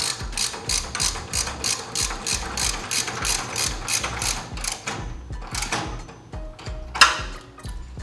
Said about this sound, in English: take my 13mm ratchet, socket, and wrench, tighten this down